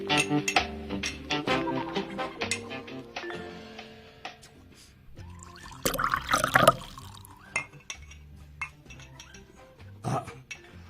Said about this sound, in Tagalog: Hapit man mapuno ang baso.